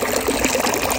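Water runs steadily through a filtered recirculating water feature at Isla San Andres, a close, continuous trickling splash with no talk over it.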